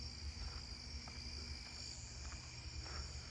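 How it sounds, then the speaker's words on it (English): Columbian trig crickets chirp at night in a neighbourhood, their thin, high calls rising in brief bursts above a steady background insect chorus at moderate level, with no talking. "I hear Columbian trigs"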